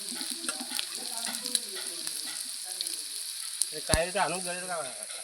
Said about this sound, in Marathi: कांदो लसूण आणि आला सगळा आता गरम करून भाजून घ्यायचा टोपात